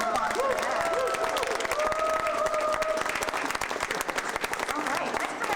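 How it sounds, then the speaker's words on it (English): Audience applause at a poetry event, dense steady clapping throughout with a faint voice or tone weaving over it near the start. "so you can give a round of applause for that"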